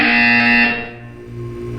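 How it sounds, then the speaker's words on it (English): A harsh electronic buzzer from the video game Portal 2 sounds loudly for under a second, then cuts off into a quieter low hum. "You will hear a buzzer."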